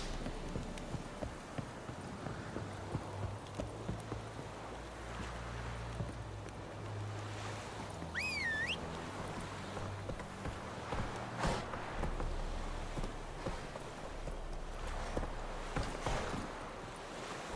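Roach the horse clops along at a steady gait in The Witcher 3, hooves thudding softly under ambient wind and game music, with a brief whistling tone partway through.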